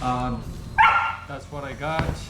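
A dog barks in a short burst partway through, loud and close, with a person talking before and after it at an indoor art book fair.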